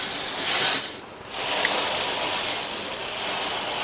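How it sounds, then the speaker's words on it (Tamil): Dosa batter sizzles on a hot, lightly oiled cast griddle while making kara dosa, a steady close hiss that briefly dips near one second before returning strong and continuous. "ஒரு ட்ராப் எண்ணெய் விட்டுட்டு நல்லா தொடச்சி விட்டுட்டு தோசையை ஊற்றிடலாம்"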